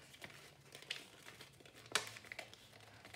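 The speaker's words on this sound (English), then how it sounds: "So I'm just creasing it in half, like so." Paper being creased in half while folding a hammer-head paper plane, heard as a few faint, brief crinkles and one sharper crackle in a quiet room.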